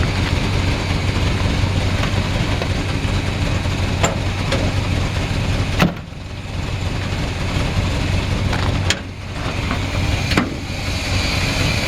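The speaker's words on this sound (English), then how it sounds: "I just wanted you to be able to hear this engine." A 1948 Oldsmobile coupe engine idles steadily up close, a low continuous rumble with a few brief clicks and small dips in level.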